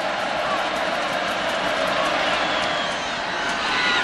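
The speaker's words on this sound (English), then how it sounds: "the Aggie crowd now getting after it" Texas A&M Aggie home football crowd roaring steadily during a 2002 game against Louisiana Tech, a dense, continuous wall of cheering and whooping that stays loud throughout.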